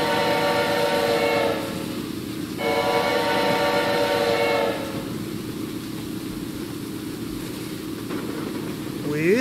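Train in the video game Choo-Choo Charles riding along, a steady loud rumble with a sustained horn-like tone blaring twice, first briefly then longer, over continuous rail noise.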